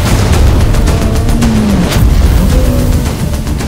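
Heavy booming blasts and rumbling fill the clip, loud and dense, like cannon fire with explosions rolling one after another.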